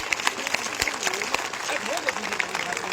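A political rally crowd claps in a brief, steady patter of applause mixed with voices, moderately loud and fairly close.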